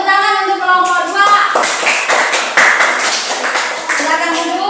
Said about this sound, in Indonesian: Baik, tepuk tangan untuk kelompok 2.